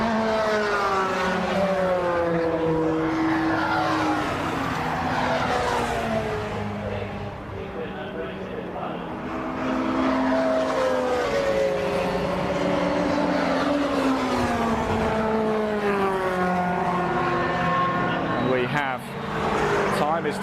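Classic touring cars lapping Brands Hatch GP circuit in qualifying, engines rising and falling in pitch as they pass, heard under continuous commentary.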